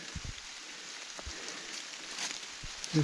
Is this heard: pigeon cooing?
no